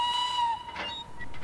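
A steam train whistle in a train simulator video game gives a steady, fairly loud high-pitched tone that fades toward the end, with a hiss and a few short whistle bursts after it.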